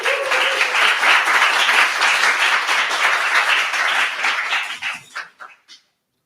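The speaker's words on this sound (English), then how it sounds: "big round of applause for Matt." Audience applause greets Matt, a speaker at a live Edinburgh games talks event. Dense clapping stays steady for about four seconds, then thins into a few scattered claps and stops.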